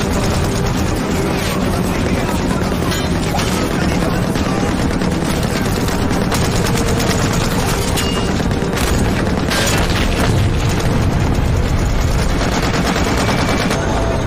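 Dense, continuous battle gunfire from a war film about Soviet soldiers fighting German Nazi tanks, with tank cannon and machine gun bursts, booms and rattling volleys layered loudly and without pause throughout.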